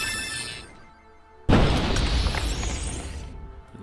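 Forest Fire spell effect in the video game Puzzle Quest: Challenge of the Warlords, a sudden loud crashing burst that flares up and roars steadily for about two seconds before cutting off.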